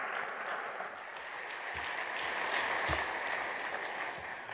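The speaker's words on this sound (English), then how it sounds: "give a great round of applause for Nathan Beasley" An audience at a Clemson University event applauds for Nathan Beasley, producing a sustained, even wash of clapping from a large crowd that holds steady throughout.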